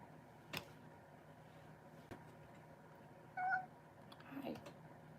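Indoor house cat giving a single brief, faint meow amid quiet room tone, with a couple of soft clicks nearby and a low murmur afterward.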